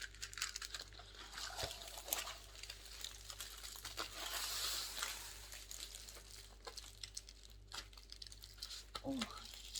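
An AliExpress package is unwrapped close by, with intermittent plastic crinkling and rustling, a longer tearing stretch in the middle, and a steady low hum underneath.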